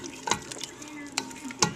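A spoon stirs tomato paste into simmering homemade spaghetti sauce, giving a few scraping, sloshing strokes over a low bubbling background.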